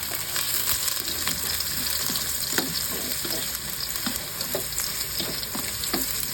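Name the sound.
ginger, garlic and onion sautéing in a pan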